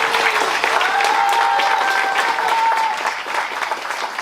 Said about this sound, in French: On peut encore bien applaudir les enfants.